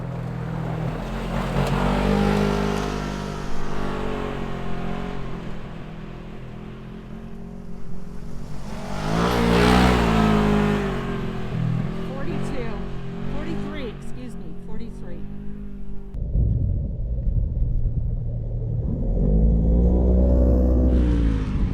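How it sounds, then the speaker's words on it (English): A car accelerates hard along a dusty road at about 35 miles per hour, its engine a loud, continuous rumble that swells and shifts in pitch, with people talking over it. "He hit the gas, and look at the dust going straight to Sue's house"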